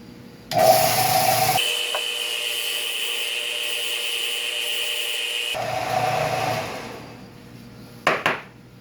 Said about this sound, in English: this sander is not going to get too exact